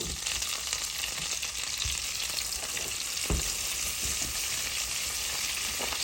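Meatballs sizzle and fry in a pan with a steady, dense crackle and occasional louder pops and stirring scrapes, close up and with no voices.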